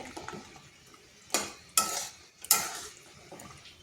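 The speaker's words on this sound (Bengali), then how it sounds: "এরপর ভালোভাবে মিশিয়ে নিচ্ছি, যাতে চারপাশটায় চিনির রসটা ভালোভাবে ঢুকে।" Palm-based taalmohan sweets being stirred in sugar syrup in a pan, giving three sharp, close scraping strokes with soft clinks between them and no talking.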